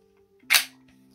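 An unloaded Desert Eagle .50 AE pistol gives a single sharp metallic click as its mechanism is released, heard close up over a faint steady hum.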